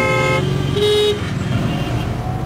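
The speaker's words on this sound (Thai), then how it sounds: "มาที่นี่จะได้ยินเสียงแตรตลอดเวลานะคะ" Several car horns honk loudly, overlapping long toots and short blasts, over a steady rumble of nearby road traffic.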